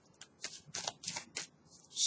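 Tarot cards are shuffled close up in quick riffling bursts, several crisp flutters in a row at low volume, with no speech over them.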